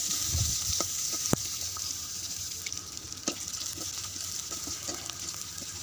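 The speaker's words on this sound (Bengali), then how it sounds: "এখন কিউব কিউব করে যে পেঁয়াজ দিয়ে ভেজে" Cubed onions fry with meat in a pan, giving a steady, moderate sizzle with scattered crackles and a few sharp clicks of stirring, close and continuous throughout.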